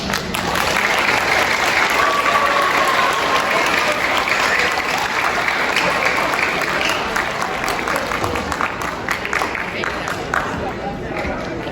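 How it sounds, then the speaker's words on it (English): Audience applause at a school celebration, with a crowd clapping steadily and loudly for over ten seconds, a faint whistle briefly audible within the clapping and some background chatter underneath. "Okay, clap now."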